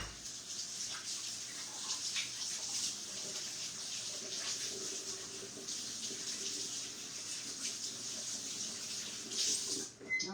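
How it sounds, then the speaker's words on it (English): Water runs steadily from a kitchen tap as hands are washed under it, a continuous soft hiss with slight splashing fluctuations, ending with a brief bump. "we are going to wash our hands"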